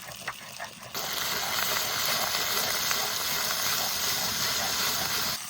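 Ground cumin and coriander paste hits hot oil with ginger and garlic for a snakehead fish curry, bursting into a loud, steady sizzle that starts abruptly and hisses on without pause.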